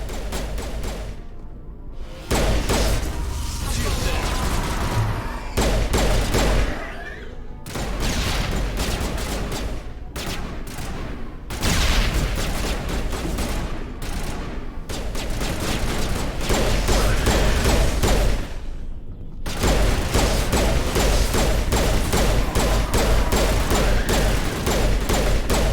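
Dense, continuous video game gunfire from Mass Effect: rapid bursts and pistol shots hammering without pause at loud, near level, with brief drops between volleys.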